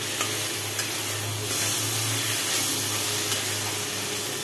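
Pumpkin chorchori with prawns being stirred and scraped in a pan on the stove, a steady close sizzle with soft frying hiss and occasional scraping, alone without talk.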